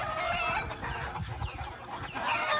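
Clucking from a gamecock rooster of a breed priced at 200,000, brought from Cebu, repeating in short rough bursts close by over steady farmyard bird noise, with no talking.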